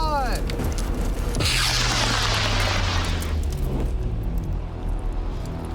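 A rocket launches outdoors in a smoky field experiment, its loud roaring blast swelling into a sustained rumbling rush that slowly fades as it climbs away.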